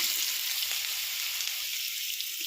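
Cucumber pieces fry in hot tempering oil with dals and spices for a cucumber curry, giving a steady, bright sizzle that is close and constant throughout.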